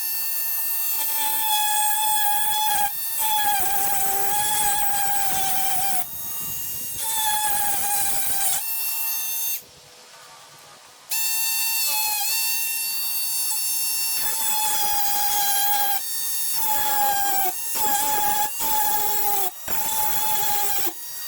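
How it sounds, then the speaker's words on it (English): A Dremel rotary tool grinds through a corroded nut on an ARB Safari snorkel, its high whine rising and dropping in repeated bursts with a brief pause partway through. "the whole point of trying to Dremel out that nut holding this together"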